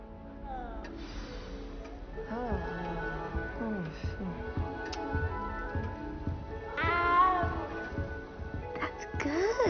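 A cat meows several times in Hogwarts Legacy, with bending, rising cries over castle ambience and background music, while characters speak throughout.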